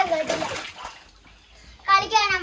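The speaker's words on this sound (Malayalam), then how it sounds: "പിന്നെ കുറേ നേരം ഈ വെള്ളത്തിൽ കളി തന്നെയായിരുന്നു." Children play in a pool, splashing water in short bursts while a voice chatters loudly over the sloshing.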